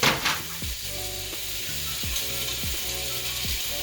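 Ribeye steaks sizzle on a very hot grill at the highest heat setting, a steady close hiss with periodic scraping, ratcheting clicks recurring about every half second.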